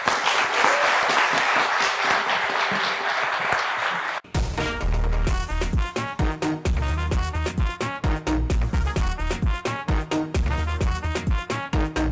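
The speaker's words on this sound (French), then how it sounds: "Sous vos applaudissements." A talk show studio audience applauds loudly to welcome a guest for about four seconds before bright music cuts in and takes over.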